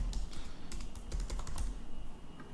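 Fingers type out a query on a computer keyboard, a quick irregular run of light clicking keystrokes close by over faint room noise.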